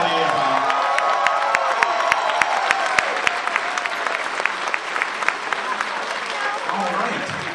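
An audience at a convention closing ceremony claps and cheers, a loud, continuous wall of applause with scattered whoops and crowd voices, fading slightly toward the end.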